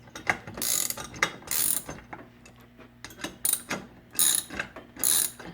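Sprocket being tightened down on an Azusa mini bike kit with a ratchet wrench; close, sharp clicking bursts repeat in uneven strokes with short pauses between them.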